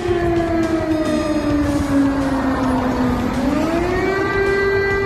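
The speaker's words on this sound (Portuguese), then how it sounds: "Esse som que você está ouvindo é de uma sirene." A loud air raid siren wails steadily, its pitch sliding slowly down and then rising again, with no voices over it.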